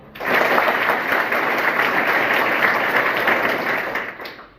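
An audience at a school event in Jaunpur district bursts into loud, close, continuous hand clapping, an even wash of claps sustained for about four seconds before tapering off.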